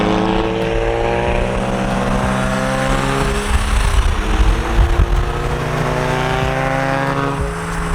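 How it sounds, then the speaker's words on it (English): A car fitted with a loud Tomei exhaust drones with a deep, harmonic-rich engine note, swelling briefly as it revs past mid-way, then settling to a steady close rumble with no talk. "I don't know why everybody in the world is obsessed with Tomei exhaust. Like, but holy hell are they loud."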